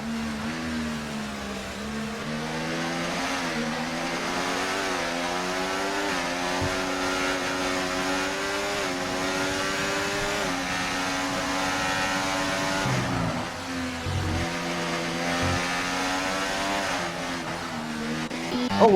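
Race car engines in a sim racing game at the Hungary round, a steady sustained drone with rising and falling pitch sweeps as cars pass and weave on the straight, loud and continuous without talk.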